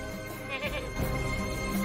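Goats bleat briefly in the Gabriel Knight: Sins of the Fathers adventure game, a couple of short nasal cries over quiet ambient background.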